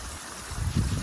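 Water from a pondless waterfall pours and splashes steadily outdoors on a misty, drizzly, windy day, a continuous broadband rush that swells slightly louder toward the end.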